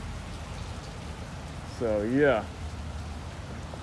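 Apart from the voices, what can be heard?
pouring rain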